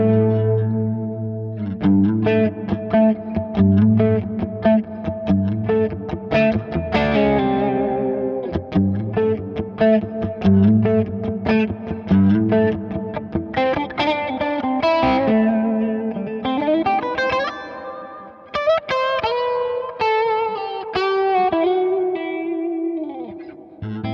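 Electric guitar chords and single notes through a Valeton CH-10 analog chorus pedal at slow rate and full depth, a smooth, deep shimmer with reverb, swelling gently for the whole passage without any talking.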